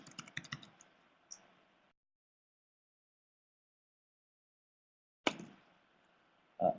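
Short bursts of rapid clicking keystrokes on a computer keyboard, nearby and soft, separated by a long silent pause before typing resumes.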